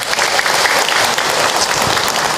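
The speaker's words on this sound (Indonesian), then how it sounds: "Tepuk tangan buat kita semua" Loud, dense audience applause fills a religious lecture hall, a continuous wash of many clapping hands close by, sustained without pause for the whole stretch.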